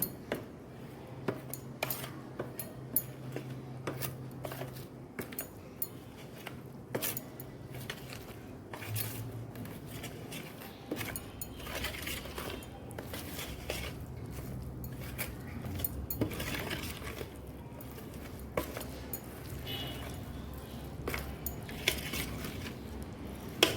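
Tomato pickle being mixed in a pot, with scattered clinks and scrapes of a utensil against the metal in an uneven rhythm alongside soft squishy stirring, close and fairly quiet.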